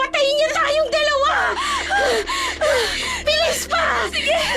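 A woman running pants and gasps hard and repeatedly in quick, breathy bursts, close up, mixed with strained vocal sounds and a second voice speaking urgently.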